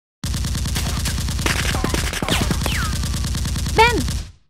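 Rapid automatic gunfire rattles through an action film scene, loud and continuous with dense repeated bursts, while voices shout over the shooting.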